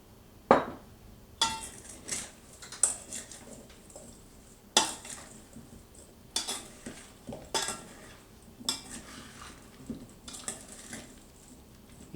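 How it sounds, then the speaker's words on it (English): A spoon stirs blueberry pie filling with grated orange zest and cinnamon in a bowl, giving repeated clinking scrapes against the dish at an irregular, unhurried rhythm, close and clear without any voice. "You want to stir it gently but well"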